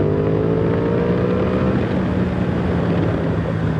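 Aprilia Tuono 660 Factory motorcycle engine running steadily under the rider, a loud continuous droning hum with a firm low tone and some wind rush, no talking.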